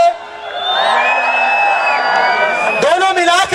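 Left side of the audience at a college farewell party cheering, whooping and shouting in a loud, sustained roar, with an announcer's voice heard briefly over the crowd.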